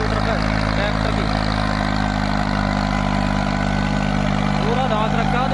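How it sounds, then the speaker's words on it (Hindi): A tractor engine, a 485, drives a Param 8-foot rotavator sunk fully into the soil with both levers down, holding steady RPM. It gives a loud, continuous, steady drone with vibration for the whole stretch. "देखियो भाई दौड़ 8 फुटे रूटर पे ट्रैक्टर की"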